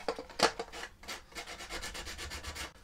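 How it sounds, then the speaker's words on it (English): Sandpaper rubbed by hand over a Canon M50 battery grip, quick close scratchy back-and-forth strokes in a steady rhythm. "just gonna tidy it up with a bit of sandpaper"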